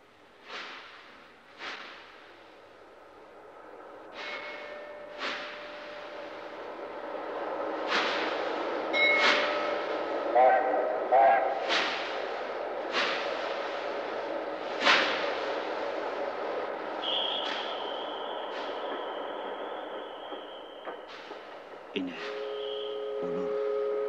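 A train sits at the Tashkent railway station platform, heard as a radio-play sound effect: sharp metallic clanks and knocks repeat irregularly over a low rumble, with a sustained high tone near the end.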